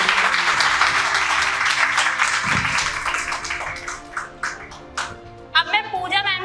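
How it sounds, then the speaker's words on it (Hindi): Loud applause fills a hall at a Gandhi Jayanti program, a dense crowd clapping that gradually thins into scattered claps before a person starts speaking at the end. "एक बार तालियां हो जाएं आप सभी के लिए"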